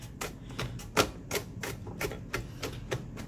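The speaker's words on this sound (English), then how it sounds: "ito na tayo yung chopping off the garlic" A knife chops garlic on a cutting board in quick, uneven taps, about a dozen close, crisp knocks over a few seconds.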